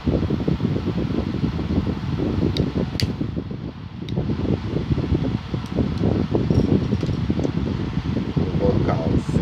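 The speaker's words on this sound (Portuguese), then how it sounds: "Mas o ventilador tá ligado ali." An electric fan runs steadily in a warm room, its constant whooshing drone filling the space with only faint ticks breaking through.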